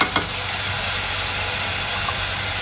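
Steady sizzling of tomato puree hitting browned onions in a hot pan for a prawn pulao, a brief louder burst at the start and then a continuous close frying hiss.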